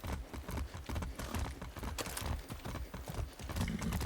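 Rhythmic clip-clop of horse hooves at a steady trot in the video game Far Cry 6, close and fairly prominent, continuing without pause.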